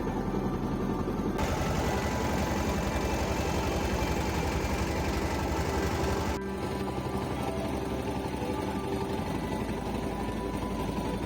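A trawler boat engine runs loudly and steadily with a dense low throbbing drone, shifting in tone partway through, on a coastal mangrove waterway trip.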